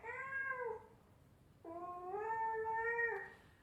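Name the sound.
cat meowing, input signal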